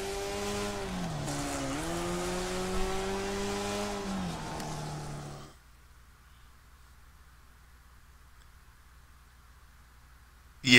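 Race car engine in the Wreckfest racing game with a thin, buzzing whine like a weed eater motor, holding steady pitch with slight dips for about five seconds, then cutting to near silence before a brief burst at the end.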